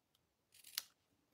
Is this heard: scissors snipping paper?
yes